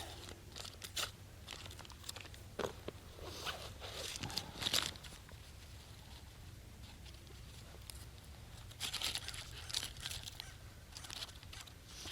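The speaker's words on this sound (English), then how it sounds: "Get the last piece of, in this case, freezer paper out." Freezer paper is pulled from a roll and torn outdoors, giving faint, close crinkling, rustling and ripping bursts scattered over a quiet background.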